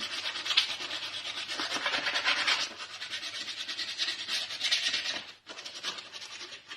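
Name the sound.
scuffing bike crank with sandpaper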